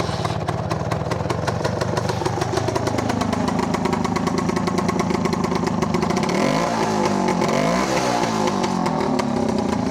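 A small two-stroke motorcycle engine putters and idles with a rapid, rattling rhythm, briefly revving up and settling back down, loud and close.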